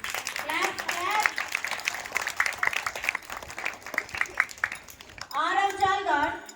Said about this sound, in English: Clap, clap.